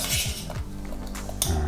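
Garlic rubbed and pressed in a bowl for a vegetarian salad, scraping and clinking of utensil against the dish in quick irregular strokes, close and without talk.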